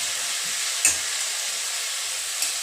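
Tomatoes frying with onion, ginger and garlic in a home kitchen pan, a steady soft sizzle throughout with two brief louder crackles or stirring knocks, no talking.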